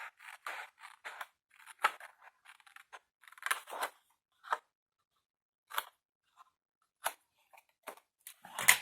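Scissors snipping paper tabs for a scrapbooking drawer project, a series of short, crisp close cuts in irregular bursts separated by brief silences.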